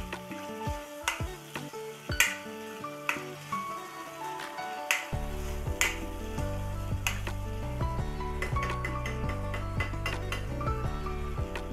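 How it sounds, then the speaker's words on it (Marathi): Mutton cooking in spicy kala masala, stirred in a pan with a spoon, giving close, irregular metallic scrapes and clinks over a steady oily sizzle that swells louder partway through. "मस्त हलवून घेऊ याला."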